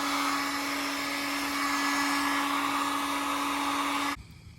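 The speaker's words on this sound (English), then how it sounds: "I'm going to use a heat gun and hold it here for a few minutes" A heat gun blows hot air onto a cab corner patch on a truck, a loud steady whirring roar with a fixed tone, close up and unbroken, that cuts off abruptly near the end.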